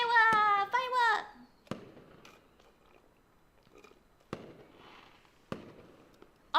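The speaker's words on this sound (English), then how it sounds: "Yay! Firework!" Fireworks in a Doki Doki Literature Club mod go off as four sharp, isolated bangs spread across several seconds in a quiet scene. A high, sing-song voice is heard briefly at the start.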